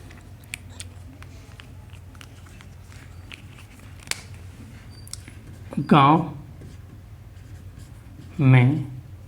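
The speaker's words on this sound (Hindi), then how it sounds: "तो चलिए हम सबसे पहले यहाँ पर लिख लेते हैं" A pen scratches across paper while someone works through a math problem, making soft, irregular strokes close by. Two short bursts of speech come in near the end.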